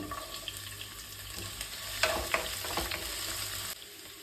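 Mustard seeds, ginger and garlic fry in hot oil in a kadai, giving a steady close sizzle with scattered crackles and a few sharper pops partway through.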